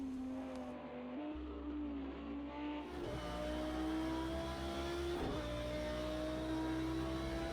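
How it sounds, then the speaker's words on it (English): Sim GT3 race car engine at the Bathurst circuit in Project Cars 2, a loud steady high-pitched drone with rising revs and a brief dip around a gear change, heard alone with no talk. "this is an amazing sounding car, probably one of the best sounding cars in the game for me"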